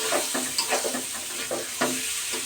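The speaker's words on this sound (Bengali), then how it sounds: "মশলা প্রায় হয়ে এসেছে কষানো, তেল ছিটছিট করছে দেখুন" Spice paste fries and spatters in hot oil for a fish curry, a constant bright sizzle broken by a few quick stirring scrapes and pops, close and loud with no voices.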